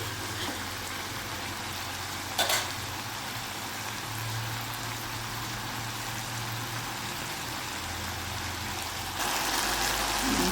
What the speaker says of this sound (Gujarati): શાક આપણું સરસ તતડી ગયું છે. પાણી બળી જશે એટલે એનો અવાજ બદલાઈ જશે.